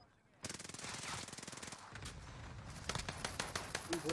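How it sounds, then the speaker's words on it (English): Rapid automatic gunfire in a video game, a dense rattling burst that pauses briefly and then resumes in quicker, heavier bursts, close and loud with no speech over it. "That's me shooting him."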